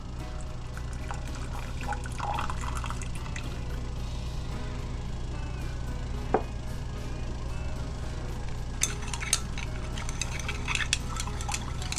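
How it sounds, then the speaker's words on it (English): Warm water poured into homemade walnut powder hair dye: a steady liquid pour with soft splashing and a few light clinks of the container, no talk. "Going to add warm water to your dye to dissolve it."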